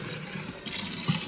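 Water splashes and swirls over rice being rinsed in a bowl, a brief close wash of liquid sound with a small slosh near the end.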